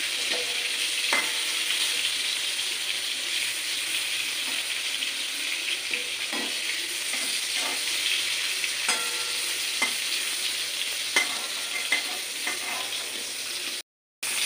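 Pointed gourd (potol) fries in hot oil, giving a steady close sizzle with occasional stirring clinks and scrapes, and a brief dropout near the end.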